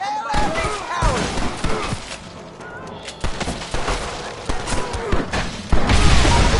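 Heavy gunfire in Red Dead, dense overlapping shots and booming blasts crowding the whole stretch, loud and close, with shouting voices mixed in.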